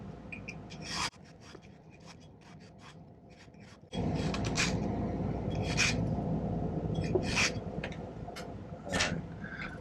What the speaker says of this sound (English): I'll probably just use the file on this one